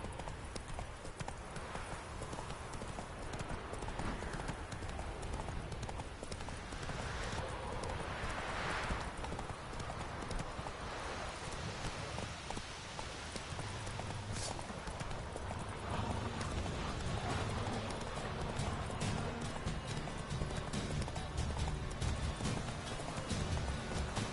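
Roach the horse gallops in Witcher 3, a steady rapid clip-clop of hooves carried over continuous outdoor ambience, fairly close and sustained throughout with a faint whinny-like texture at moments.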